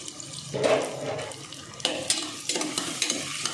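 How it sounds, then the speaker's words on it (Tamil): Tomatoes frying with onions in a pan while being stirred: soft steady sizzling with scraping spoon strokes and a few sharper clinks, moderately close, no talking. "தக்காளி ஃப்ரை ஆகட்டும்"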